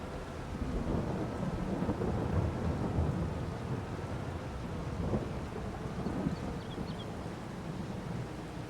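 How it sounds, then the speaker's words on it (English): Rumbling thunder rolls continuously under steady rain and light wind in the Farming Simulator video game, on a Carpathian farm map, a low, sustained storm bed with no voices. "This darn rain."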